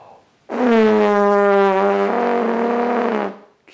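Sustained trombone-style lip buzz through tightly closed lips: a single steady, loud, pitched buzz of about three seconds with a slight shift in tone partway through, heard alone.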